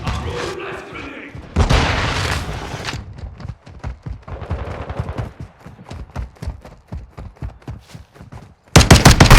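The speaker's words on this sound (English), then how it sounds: "Flash grenade!" A flash grenade bursts amid rapid gunfire in a Modern Warfare 2 Shoot House Domination match: loud, dense rattling shots and booms, with harsh broadband blasts near the start and again at the end, and voices calling out.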